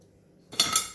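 Metal spoon clinking against dishes, a short bright clatter after a moment of near quiet, followed by one lighter tap, close and alone.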